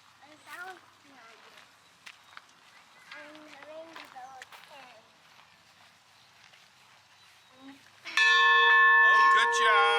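On a Kansas City Northern Railroad ride, a railroad bell starts near the end and rings loudly and steadily for about two seconds, after quieter chatter and a voice.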